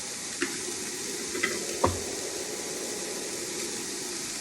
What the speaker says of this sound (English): I've got one small onion. We're going to saute this for a couple minutes.